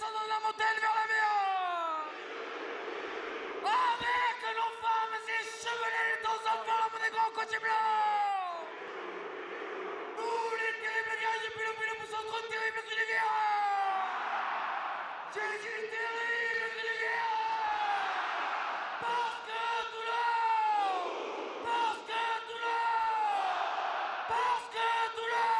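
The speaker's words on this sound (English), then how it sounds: "Pilu Pilu rings out here on a stunning day" At a Toulon versus Ulster European rugby match, a large stadium crowd chants the Pilou Pilou, its massed voices rising and falling in long, rhythmic phrases with short gaps between swells.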